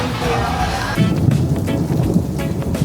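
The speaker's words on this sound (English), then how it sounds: "You hear the thunder?" A low, rolling rumble of thunder swells and churns for a few seconds, deep and heavy, with a steady wash of rain or wind behind it.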